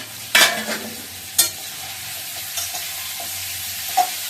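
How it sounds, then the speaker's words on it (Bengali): Vegetable curry with cauliflower fries steadily in a pan, a constant close sizzle punctuated by about four sharp scraping stirs, with no talking. "আর এদিকে তরকারিটাও ভাজা হয়ে আসছে, তরকারিটা একটু নেড়ে ছেড়ে দিই।"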